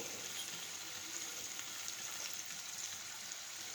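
Cumin seeds sizzling in hot oil for moraiya khichdi produce a soft, steady crackling hiss, fairly quiet and unbroken, with no one talking.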